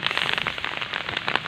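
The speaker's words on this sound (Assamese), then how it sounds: "বৰষুণত একদম চচুবাৰী" Heavy rain during a thunderstorm pours down close by, a dense, continuous crackling patter with no voices.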